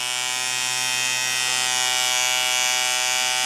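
A Hummingbird rotary tattoo machine with a Swiss motor, set up as a liner and overdue for lubrication, runs in a steady, close, fairly loud electric buzz with a constant pitch and no pauses.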